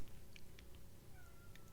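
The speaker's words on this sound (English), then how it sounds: "My cat just meow." A house cat gives a few faint, brief meows at a distance, almost buried in a low, steady background rumble.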